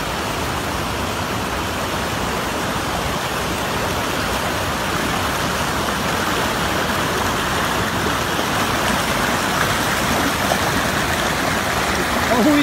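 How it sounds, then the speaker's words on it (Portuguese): Acaraú river current rushing over a rocky bed, a loud, steady broadband roar of water that holds constant throughout and swells slightly near the end, with no talking. "Olha o ruído. Força das águas!"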